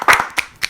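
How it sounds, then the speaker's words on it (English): A few brisk hand claps close by, short bursts of clapping for a round of applause on a casual talk show, brief and fairly loud. "Let's give Richard a round of applause."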